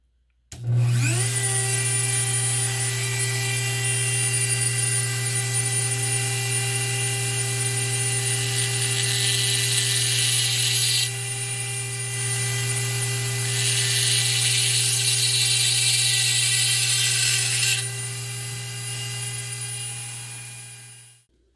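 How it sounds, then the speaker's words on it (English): A power drill whines continuously at high speed for about twenty seconds, its pitch and load shifting as the bit works, then stops. "think we're going to try this drill bit here."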